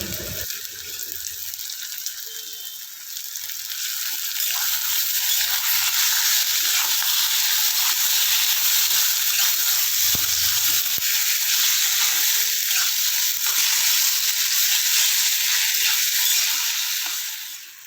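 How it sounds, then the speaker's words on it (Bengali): Chicken pieces fry in white oil in a wok, giving a loud, continuous, hissing sizzle that swells after a few seconds and holds steady, with occasional soft knocks as the pieces are stirred. "তেলের মধ্যে চিকেনগুলো দিয়ে ভালো করে আমি একটু নাড়াচাড়া করে কষিয়ে"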